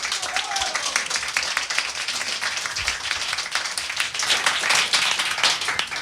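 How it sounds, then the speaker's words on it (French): An audience at an awards evening bursts into lively applause, many hands clapping densely and continuously for several seconds, with some voices mixed in. "Je vous demande un tonnerre d'applaudissements."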